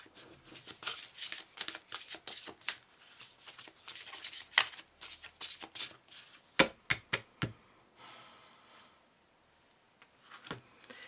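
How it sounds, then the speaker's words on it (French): Tarot cards being shuffled and drawn by hand in a rapid series of papery riffles and slaps, then a few sharper snaps before a brief pause and some softer handling at the end, close and with no voices. "Je vais tirer une carte de ça."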